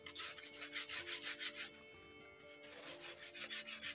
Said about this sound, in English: I take the sanding block and I will try recreate the small angle